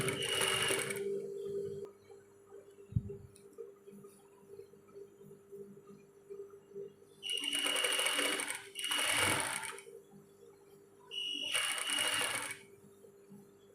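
A sewing machine stitches a V-neck placket on thin fabric in three or four short, close bursts of fast whirring, separated by quiet pauses with a low background hum.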